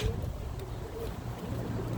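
Birmingham Roller pigeons coo softly in a loft, with low repeated calls sounding close but faint over a quiet background.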